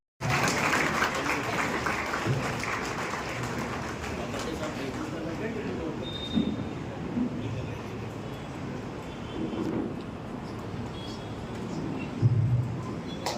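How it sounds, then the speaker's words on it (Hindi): Audience applause at an award ceremony held by a community association in Nagpur, a sustained wash of clapping from a crowd that swells at moments, with a voice talking over it. "तालियां बजती हैं, बच्चों के हौसला अफजाई करते हैं।"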